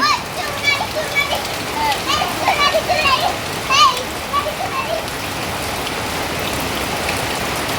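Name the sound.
rain falling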